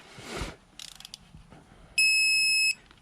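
A torque wrench tightening bolts on a 2010 Mercedes Sprinter lets out one loud, steady high-pitched beep lasting under a second, after faint scraping and clicking of the work.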